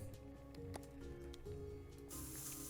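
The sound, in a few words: spray can spraying paint in video game SuchArt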